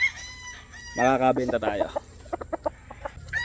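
A Roundhead x Gilmore gamefowl rooster, a golden boy cross, gives a loud close crow followed by a run of short clucks, with someone talking over and around it.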